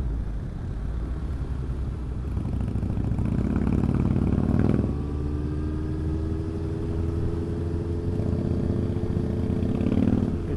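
A Honda CB650R motorcycle rides along with a steady mid-pitched engine drone and wind rumble, the revs rising and shifting a couple of times, with no talking heard.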